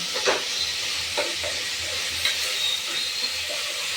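Food sautéing in a pan for country-chicken biryani, with salt added, gives a steady broad sizzle and hiss throughout, broken by a few light stirring scrapes and clicks.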